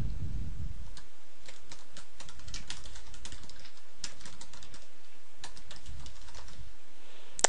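A file name is typed on a computer keyboard as a quick run of crisp key clicks in several bursts, with short pauses between them. The typing is close and clear, with no talk.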